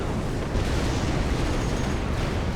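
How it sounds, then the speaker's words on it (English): Cannon fire and explosions in the strategy game Forged Alliance Forever, a crab unit shelling the water surface to hit submarines below, forming a dense, continuous rumbling barrage of booms and bursts throughout. "The crab is force firing the surface with its cannons and killing the subs underneath thanks to the splash damage."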